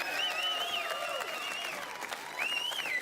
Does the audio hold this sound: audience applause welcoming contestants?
yes